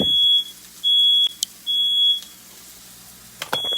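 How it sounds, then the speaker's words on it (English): A smoke alarm set off by cooking sounds in repeated long, shrill electronic beeps, three bursts with short gaps, then a fourth starting at the end; fairly loud, with no talking. "oh, there goes my fire alarm. The smoke detector always goes off when I cook"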